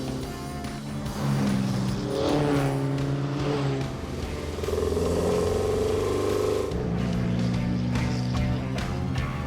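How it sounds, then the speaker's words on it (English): An Alfa Romeo 105 Giulia GT Veloce 1600 engine runs loudly and steadily, its rumble rising and falling as it revs, with no talking over it. "Starting the Alfa Romeo is just a ritual that I love doing."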